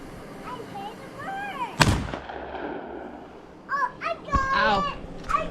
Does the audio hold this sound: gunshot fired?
yes